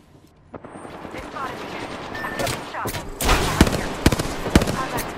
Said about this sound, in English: Shots fired at me. Scanning the area. Contact The enemy shooting at me.